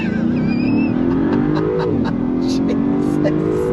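A 2023 Land Rover V8 Carpathian Edition SUV on off-road tires accelerates hard, its engine note climbing loud and close with rising pitch, while people talk over it.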